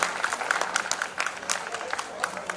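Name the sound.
applause from reunion audience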